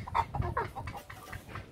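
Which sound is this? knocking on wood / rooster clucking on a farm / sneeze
rooster clucking on a farm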